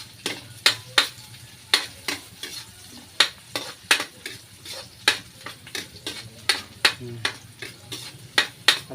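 Garlic and onion sautéing in a pan, loud rhythmic scraping strokes of a spatula repeating about twice a second over a soft continuous sizzle, close by, with no speech.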